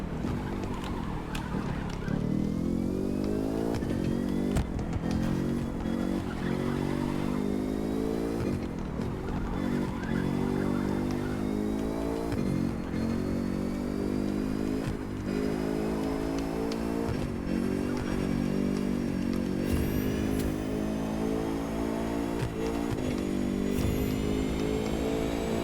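A car in the racing game The Crew 2 drives the route from Las Vegas to LA: a loud, sustained engine drone that climbs in pitch as it accelerates, with a drop at each gear shift every few seconds.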